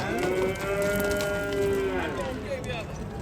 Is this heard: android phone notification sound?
no